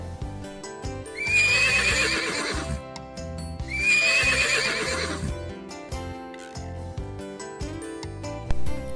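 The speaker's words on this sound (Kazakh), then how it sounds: "Жылқы кісінейді." A horse neighs twice, two loud, shrill whinnies a couple of seconds apart, with faint hoof and movement noises in between.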